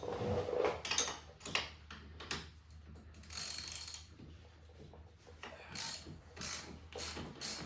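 Hand tools ratchet and clank while pulling the wheel knuckle off a Polaris UTV, with bursts of quick clicking pawl strokes and metallic knocks separated by short pauses.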